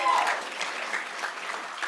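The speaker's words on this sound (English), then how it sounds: "Y'all can clap, don't be scared." At a graduation ceremony for a summer legal fellowship program, the audience claps steadily for graduates. The applause is moderately close and fairly dense, with a brief voice or cheer near the start.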